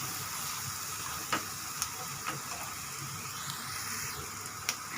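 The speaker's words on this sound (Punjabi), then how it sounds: "ਚੰਗੀ ਤਰ੍ਹਾਂ ਭੁੰਨ ਲਾਂਗੇ ਮਸਾਲਿਆਂ ਨੂੰ ਹਲਦੀ ਆਪਾਂ ਚੰਗੀ ਤਰ੍ਹਾਂ ਭੁੰਨ ਲਾਂਗੇ" Turmeric and spices roasting in a pan for a capsicum curry give a steady, quiet sizzle with occasional soft clicks of a spoon stirring, no voices.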